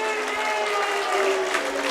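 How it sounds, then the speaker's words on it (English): Home crowd at Stair Park applauds Stranraer after a 2-1 league win over Peterhead, a broad, sustained roar of clapping and cheering heard at a distance, with a commentator's voice over it. "Stranraer take the applause."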